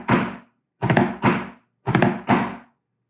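A drum is played in the single drag rudiment from historic military drumming, with the accent on the left stroke: five sharp, close strikes grouped as one hit followed by two quick pairs, loud and alone.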